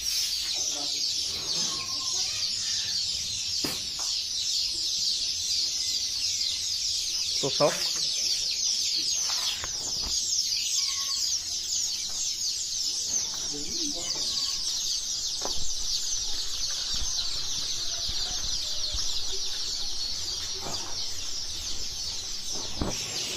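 Chicks peep and cheep continuously in a poultry hatchery, a dense, steady chorus that fills the background while someone talks over it, with occasional louder clucks.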